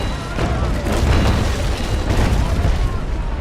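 A sailing warship fires its cannons in the naval combat game Naval Action, producing heavy rolling booms that overlap into a continuous loud rumble, with someone talking over the blasts.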